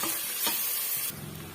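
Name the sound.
ginger garlic paste sizzling while sautéing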